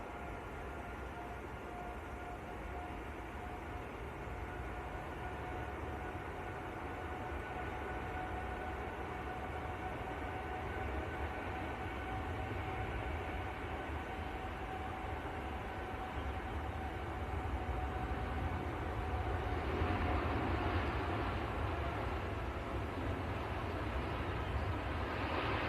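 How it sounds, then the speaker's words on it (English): A Boeing Dreamliner rolls down the runway for takeoff at Manchester Airport, heard from a distance as a steady, broad jet roar that builds gradually and grows louder toward the end, with no talking. "There we go then, Dreamliner on the roll."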